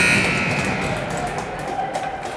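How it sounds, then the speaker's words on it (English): A period-ending buzzer at an ice hockey championship game sounds loud and sustained at the start, then fades into arena noise with some voices. "That's going to do it for the period. Buzzer ends."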